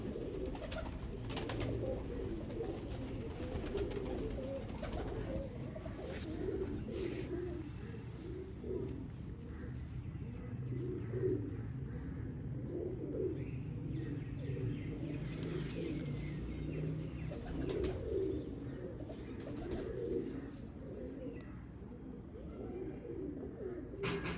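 Pigeons coo repeatedly in soft, rolling calls close by, with faint traffic and other birds in the background.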